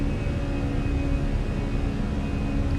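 Airliner engines at climb thrust in Microsoft Flight Simulator on an easyJet route: a steady, loud broadband roar with a low rumble and a faint constant whine, with no voices.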